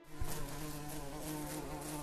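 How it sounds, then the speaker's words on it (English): A wasp buzzes in a continuous steady hum, fairly faint but sustained throughout with no pauses. "A wasp."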